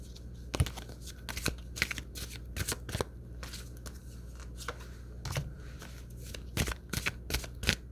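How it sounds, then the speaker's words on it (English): A deck of tarot cards being shuffled close by, rapid papery riffles and slaps in irregular bursts, no voices. "It flew out multiple cards, so we're going to shuffle one more time"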